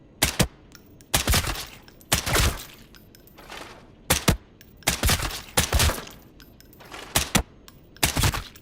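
Gunfire in the shooter game Arena Breakout: Infinite, sharp close bursts of rapid automatic shots in short repeated volleys with brief pauses between them, loud and dominant with no talk over it.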